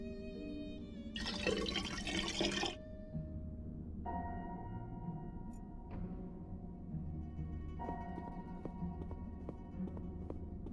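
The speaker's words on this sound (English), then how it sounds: "I'll just pour in a bit of water." In The Black Mirror 3, water pours into a pot in one steady, splashy burst lasting under two seconds, then drips and settles while soft tonal music plays on.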